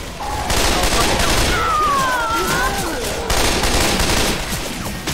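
Rapid bursts of automatic gunfire in the video game Left 4 Dead crackle loudly in two long volleys with a brief lull between them, while a faint voice speaks underneath.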